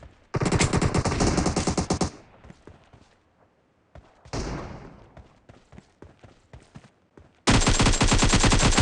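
Automatic weapon fire in the battle game PUBG, heard as loud, close bursts of rapid shots, then a break, then a long sustained burst at the end.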